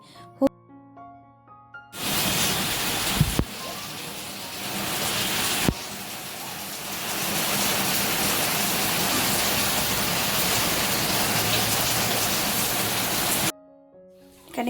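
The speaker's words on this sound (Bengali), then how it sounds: "বাইরে কিন্তু মুষলধারে বৃষ্টি নেমে পড়েছে" Heavy rain pours down outside a home, a steady, loud, wide roar of falling water that starts abruptly after a quiet moment and runs unbroken for about eleven seconds before cutting off.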